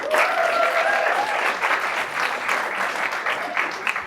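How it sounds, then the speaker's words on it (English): An in-person audience at a women-in-sales event applauds a speaker, a dense, even burst of clapping that holds steady for several seconds, with a faint tonal voice-like trace near the start. "can we have a round of applause for Nikki, please?"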